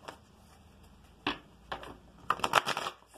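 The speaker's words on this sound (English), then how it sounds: "3 shuffles and a cut for my Aries" Tarot cards riffle in a few quick shuffles, short crisp bursts of flicking card edges separated by pauses, close and moderately soft.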